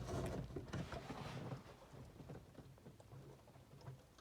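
Water drains from a 1973 GMC motorhome during winterizing, making a steady, rain-like patter and splash that is loudest at first and then continues more softly.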